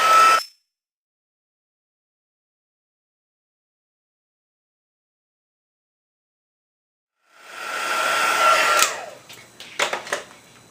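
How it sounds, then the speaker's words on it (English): Heat tool set on white embossing powder during card making: a brief blower burst at the start, long silence, then a steady, close hair-dryer-like whoosh for a few seconds that cuts off and sputters at the end. "now I'm going to go ahead and fill it with the white embossing powder and heat set it."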